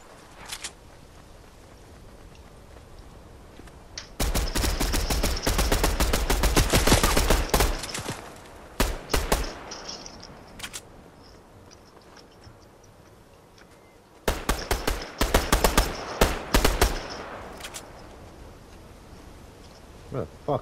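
Automatic gunfire in a multiplayer shooting video game comes as two long, loud rapid bursts separated by quieter gaps holding a few scattered single shots.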